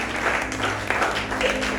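A church congregation applauds and cheers for the Lord, a dense, steady wash of clapping and crowd voices that holds loud and close for the whole two seconds.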